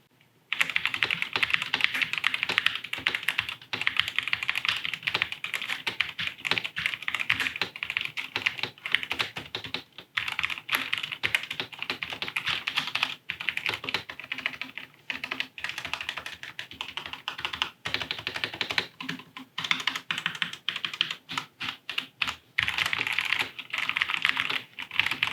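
Rapid, continuous typing on a Tecware Phantom budget gaming keyboard, close and crisp keystroke clatter with brief pauses, running alone for about twenty-five seconds.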